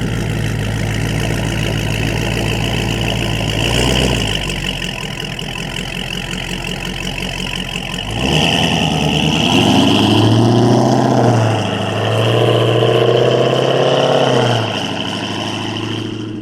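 A Dodge Challenger Scat Pack with an aftermarket catback exhaust rumbles at close range, idling low and then rising in two loud revving surges that swell, hold and fall away, with no voices.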